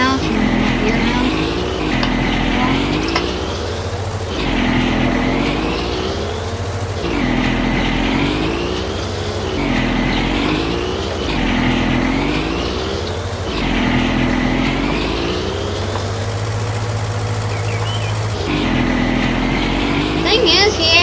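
A garden tractor mowing a house lawn drones close by, its engine pitch rising and falling in regular cycles every few seconds as it makes passes, with people talking over it throughout.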